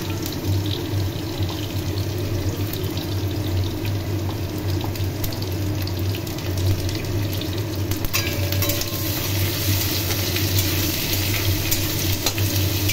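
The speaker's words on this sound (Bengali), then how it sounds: "এখন এর মধ্যে কয়েকটি চিংড়ি মাছ দিয়ে দিলাম।" Prawns fry in a pan with garlic, ginger and dried chilli paste, giving a dense, steady sizzling hiss close by with faint stirring clatter, continuous throughout with no voices.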